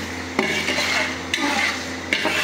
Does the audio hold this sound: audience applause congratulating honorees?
no